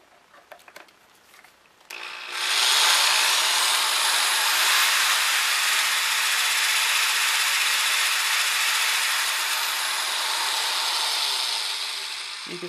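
After a few clicks, a Skil Classic 4.5 amp corded drill powered by a solar panel kit whirs up and runs continuously at a steady high-pitched whine, close and loud, then slightly fades at the end.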